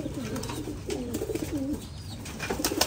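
A female pigeon held in the hand coos in soft, repeated rolling phrases, close by over a steady background hiss, with faint rustling between calls.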